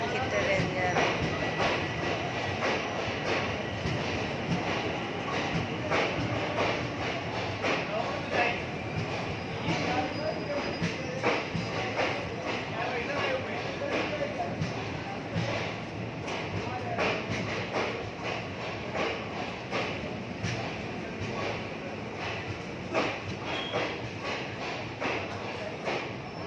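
Train passing at a rail station around six in the morning, a steady continuous rumble with rhythmic clatter held at a constant level for the whole stretch, with voices talking over it.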